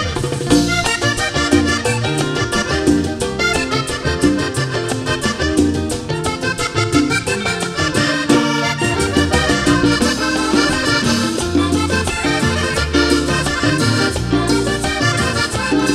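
Vallenato song, a full dense band mix with continuous steady rhythm and layered melody, loud and unbroken throughout.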